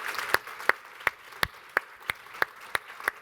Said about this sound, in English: why don't you join me in a round of applause for Debbie,